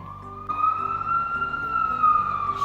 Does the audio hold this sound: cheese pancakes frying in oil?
no